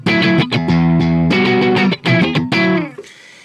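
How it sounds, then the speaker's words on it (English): Electric guitar on a clean tone pushed almost to distortion, pickup selector in the center position blending two pickups: loud, close minor-blues chords and single notes ringing out, then cutting off near the end. "The tone on this guitar is clean, but almost at the point of distortion,"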